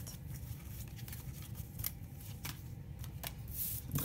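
A deck of tarot cards is handled and shuffled close by, giving a steady papery rustle with a few faint flicks and no speech.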